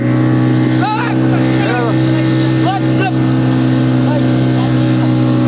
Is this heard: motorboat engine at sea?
yes